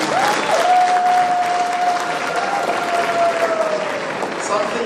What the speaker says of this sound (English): I think we should really applaud him.